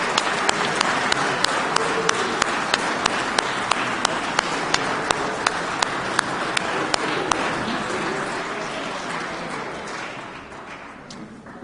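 In a legislative House chamber, members give a round of applause for a Legislator of the Year award. The clapping is loud and sustained, then gradually thins and fades toward the end.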